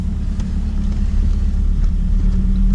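An older Volvo beater car drives along, its steady engine and road rumble droning loudly from inside the cabin without a break.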